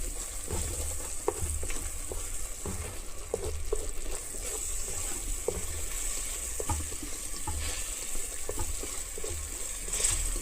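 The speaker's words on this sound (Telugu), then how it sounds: "చూసారా ఎలా ఉడుకుతుందో ఈ పచ్చడి స్పెషల్ ఏంటంటే నూనెలో ఉడికించడం" Coriander chutney cooks in hot oil with a steady, close sizzling hiss, punctuated by occasional soft clicks and stirring scrapes, continuous and even throughout without voices.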